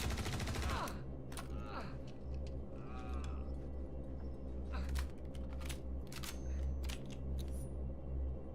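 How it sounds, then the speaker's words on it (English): Spaceship gunfire in a space video game, rapid crackling bursts and sharp clicking shots over a low engine drone, fairly quiet and spread irregularly through the clip. "Jesus, stop shooting at me."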